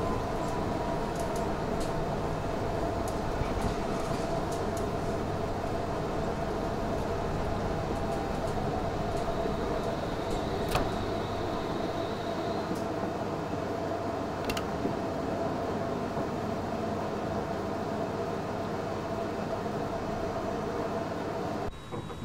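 A London Underground District Line S Stock train in Train Simulator hums and rumbles steadily along the track, with a continuous motor whine and occasional faint clicks over the full length.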